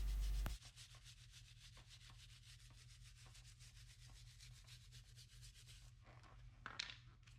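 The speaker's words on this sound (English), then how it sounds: "I'm going to go over with my tire brush one more time" Steady rapid scrubbing of a stiff tire brush against a rubber tire, a continuous rasping texture that runs on evenly for several seconds.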